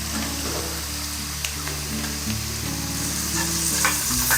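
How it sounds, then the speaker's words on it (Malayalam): Green chillies and coconut pieces sautéing in hot oil in a pan while making a beef curry, with a loud, steady, close sizzle and occasional stirring scrapes and clicks throughout, no voices. "ഇതിലേക്ക് നമുക്ക് പച്ചമുളക് ആഡ് ചെയ്യാം. തേങ്ങാക്കൊത്ത് കൂടി ആഡ് ചെയ്യാം."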